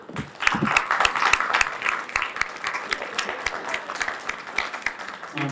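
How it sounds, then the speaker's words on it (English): People at a community meeting give the table hosts a round of applause, individual claps sharp and distinct, swelling early then thinning out toward the end. "I wanted to just have everybody give a big round of applause to the table hosts"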